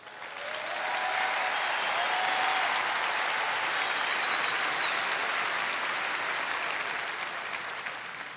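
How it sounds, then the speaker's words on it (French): Dense, steady applause from a large audience in an indoor arena at a comedy show, swelling in over the first second, holding strong for several seconds, then tapering slightly at the end; no talking. "des applaudissements."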